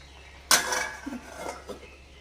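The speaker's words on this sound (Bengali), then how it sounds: "এখন আমি একটু ঢাকা দিয়ে দিই" A lid set down onto a cooking pot of fish roe curry makes one sudden metallic clatter, followed by a few fainter clinks and rattles as it settles.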